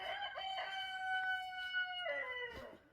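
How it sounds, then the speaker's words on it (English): A golden lace rooster crows early on a cold morning outside a campsite tent, one long, loud, nearby crow with drawn-out harmonic notes that tails off at the end. "Our golden lace rooster."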